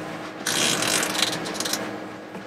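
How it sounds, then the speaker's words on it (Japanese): A pleated window screen shade on an Annex Liberty 52SP camper van is drawn down from top to bottom, giving a close ratcheting, sliding mechanical rasp that lasts about two seconds. "こちらの窓の部分も、上から下、よいしょ、このように下げますと網戸になります"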